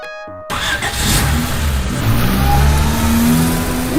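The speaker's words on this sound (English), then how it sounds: "It's a car." A car in a Berenstain Bears video game starts up and drives past, a mid-pitched engine revving and rising as it passes close by, following a brief musical jingle, with no talking.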